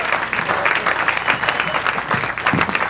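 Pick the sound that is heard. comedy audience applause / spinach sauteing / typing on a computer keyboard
comedy audience applause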